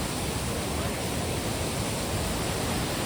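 Strongly flowing water near the Kedarnath trek rushes and sprays in a loud, constant hiss, close by and unbroken for the whole stretch.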